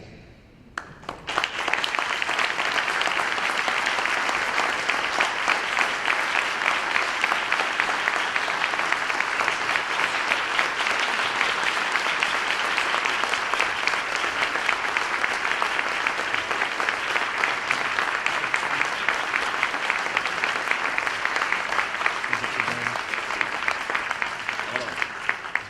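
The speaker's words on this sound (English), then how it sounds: "Let's give him another round of applause for Roland Martin" Sustained, dense applause from a large audience claps on without pause for over twenty seconds, loud and even throughout.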